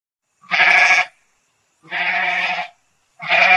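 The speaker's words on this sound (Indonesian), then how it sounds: "Kambing." A goat bleats three times in steady succession, each call about half a second long and separated by short pauses, loud and close with nothing else audible.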